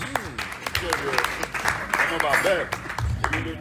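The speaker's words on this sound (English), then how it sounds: "Please, let's give a big round of applause." An audience at a political fundraiser in New York City claps in a short burst of applause while a voice keeps talking over it.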